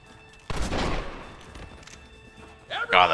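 A buffalo rifle fires in the Red Dead Redemption video game, one loud sharp blast near the start that rings out and decays, followed by scattered quieter game noises and a voice at the end.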